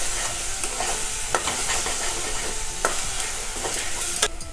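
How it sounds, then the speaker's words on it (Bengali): Cumin and coriander powder sauté with pointed gourd in a pan, making a steady close sizzle broken by sharp spatula scrapes and clicks at intervals, with no voices. "আমি 1/2 চামচ জিরের গুঁড়ো দিচ্ছি, আর 1/2 চামচ ধনের গুঁড়ো দিচ্ছি। দিয়ে আমি ভালো করে কষে নেব।"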